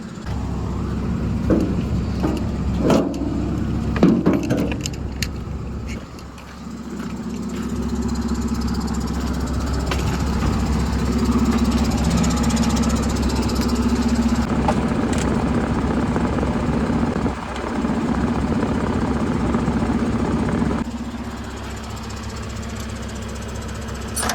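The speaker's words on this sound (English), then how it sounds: "leave that motor on idle, let it fill the whole time" A spray rig's motor idles steadily while the tank fills with about 675 gallons of mix. Its loud, close drone runs throughout, with a brief dip partway through and some clunks near the start.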